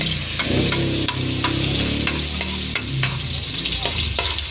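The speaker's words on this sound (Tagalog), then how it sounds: "igigisa na natin mga lods yung ating bawang" Garlic sautéed in a pan for an adobong kangkong dish, a loud continuous sizzle broken by repeated scraping strokes of a spatula, close up with no talking.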